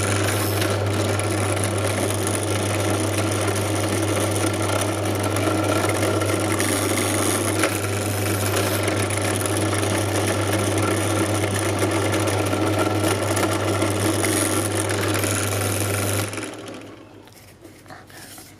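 A small drill motor hums steadily for a long stretch drilling 2.5 mm holes in a board, then winds down and stops near the end.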